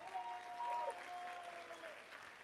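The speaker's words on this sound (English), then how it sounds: "who deserves the biggest round of applause" Faint, distant applause from a gala audience, a soft steady wash of clapping with a few brief tonal sounds over it.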